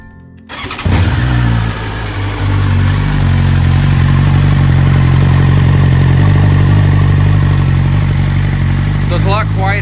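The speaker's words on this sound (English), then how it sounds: "I'll show you guys what the exhaust will sound like and also the low idle on startup." A 2020 BMW S1000RR motorcycle with a flashed tune fires up after a brief crank, then settles into a loud, steady, low idle through its exhaust for several seconds, with a voice heard briefly over it.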